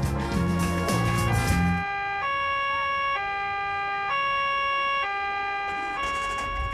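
An emergency vehicle siren wailing in alternating two-tone steps, clear and steady after a brief burst of louder noise at the start, with no voices.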